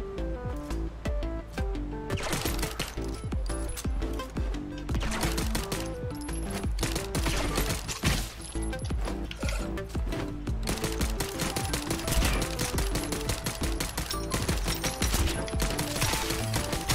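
Machine gun fire in a video game, rapid sustained bursts that run almost unbroken, loud and near, with mechanical clatter and game music beneath and no talk over it.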